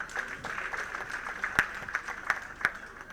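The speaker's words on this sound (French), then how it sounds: "On les applaudit, s'il vous plaît." An audience at a Miss Burkina Faso pageant in France applauds steadily, a dense patter of many hands with a few sharper, louder claps standing out, continuing without voices.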